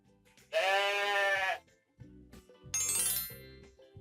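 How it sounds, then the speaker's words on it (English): A goat bleats twice, each a loud, quavering cry of about a second, separated by a short gap and backed by soft musical tones. "Goat."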